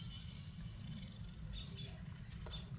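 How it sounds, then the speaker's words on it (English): Nesting weaver birds on a homestead make thin, high chirps and twittering calls. The calls are scattered and fairly faint over a constant hiss of insect-like background noise. "Beautiful sounds of the nesting weaver birds."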